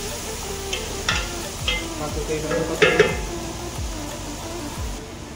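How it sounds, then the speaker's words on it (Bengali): Onions sizzle in a pot for chicken majboos while a utensil scrapes through them in several repeated stirring strokes, close and moderately loud. "ভিতরে দিয়ে দিলাম পেঁয়াজ কিছু পরিমাণে আর তারপরে মিক্সের ভিতর নাড়া দিলাম"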